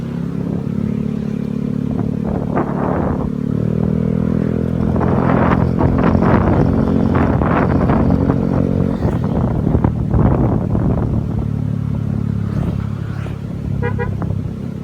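A Yamaha Mio Gear 125 scooter engine hums while riding through Metro Manila traffic, with nearby car horns tooting, passing vehicles and clattering road noise rising and falling over about fifteen seconds.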